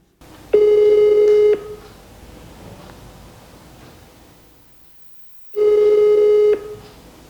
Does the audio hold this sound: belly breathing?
no